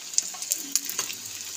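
Momo dumplings fry in hot oil with a bright, crackling sizzle and a few sharp pops and stirring clicks, close and continuous with no talk.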